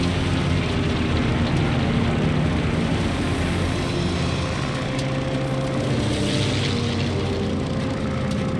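Japanese Zero propeller fighter planes in the Call of Duty Vanguard Battle of Midway level, a steady loud droning engine roar filling the whole stretch with dense broadband rumble and no speech.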